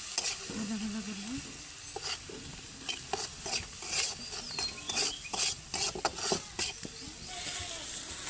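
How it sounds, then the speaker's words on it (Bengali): Spices with turmeric and salt fry among vegetables in a pan, a soft continuous sizzle broken by repeated scraping strokes of a stirring spoon, with a brief voice underneath at the start. "ভাজা ভাজা করবো।"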